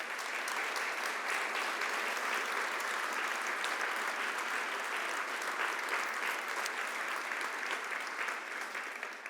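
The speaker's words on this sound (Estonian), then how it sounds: "Aplaus!" Even, continuous applause from an audience at the Solaride solar car presentation, a dense wash of clapping heard at a moderate distance without a break.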